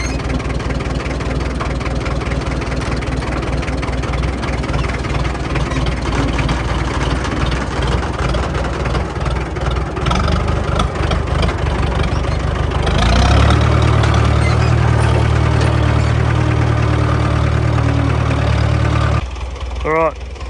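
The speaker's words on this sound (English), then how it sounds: "give the tractor a few more minutes to warm up" A tractor engine idles steadily while warming up, a low continuous rumble heard nearby throughout, with the tone shifting slightly partway through before cutting off near the end.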